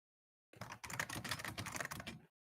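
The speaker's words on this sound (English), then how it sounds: "noise cancellation for that stupid keyboard." Rapid clacking of computer keyboard keys in a steady burst of typing, close and fairly loud, starting after a brief silence and stopping abruptly, with no voices.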